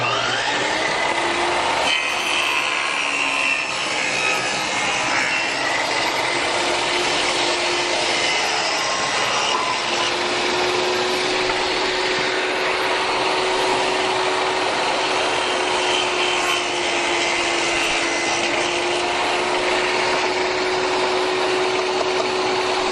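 A power saw cuts through a wooden window sill in one long, steady pass, its loud whine holding nearly unbroken for over twenty seconds with no talking.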